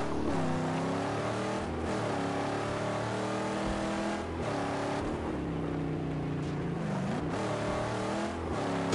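Car engine from the Mad Max video game, a steady droning motor running throughout with shifting pitch as it drives, loud and continuous with no voices.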